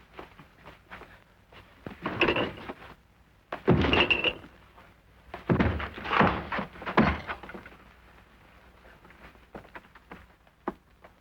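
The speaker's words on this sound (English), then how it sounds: "Force the door open." Radio-drama sound effect of a door being forced open: a series of heavy thuds, bangs and rattling knocks in irregular bursts, moderately loud and close, with no speech.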